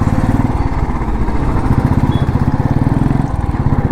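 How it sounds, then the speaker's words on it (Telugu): Motorcycle engines in heavy Bangalore street traffic: a close, loud, steady chugging engine pulse runs throughout, with a dense mechanical drone and no talk. "ట్రాఫిక్ గట్టిగా ఉంది ఇక్కడ."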